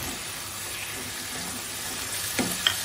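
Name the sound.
prawns frying with spice masala in a pan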